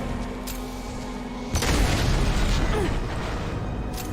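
A deep boom bursts out midway as a gunship is brought down by pistol fire in the video game Mass Effect 2, followed by a rumbling, crackling tail over steady background noise.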